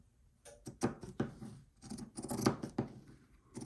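Pinking shears cut through bag lining fabric in a series of close, crisp crunching snips at an uneven rhythm, heard alone without talk.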